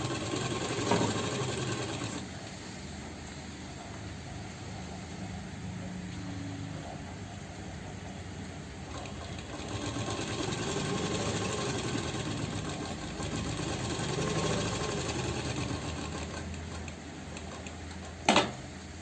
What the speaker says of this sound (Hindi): फिर वहाँ इस पॉकेट से यहाँ तक हमें करना है स्टिचिंग।